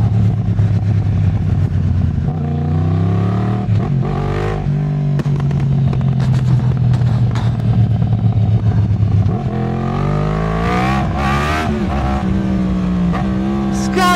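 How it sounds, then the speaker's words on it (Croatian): A Yamaha MT-10 SP motorcycle engine runs loud and close, holding a deep steady drone before sharp revs rise and fall in pitch toward the end. "Čuje se ko MotoGP motor."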